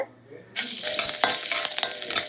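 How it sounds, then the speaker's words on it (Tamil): Mustard seeds hit hot oil, which crackles and sizzles steadily, with small sharp pops scattered throughout, starting abruptly after a brief quiet moment. "இப்போ எண்ணெய் காஞ்சிருச்சு. கடுகு போட்டுடலாம்."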